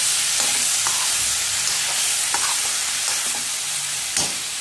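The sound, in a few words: sautéing spiced pumpkin sabzi in a pan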